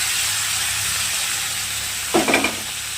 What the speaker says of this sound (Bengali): এবার আমি ছোলা কচুটা যেটা সিদ্ধ করছিলাম প্রেসারে, এটা দিয়ে দিব।